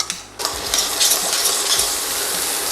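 Celery hits a hot sauté pan with a sudden bright sizzle that swells and holds steady, a loud continuous hiss with faint clinks of stirring underneath.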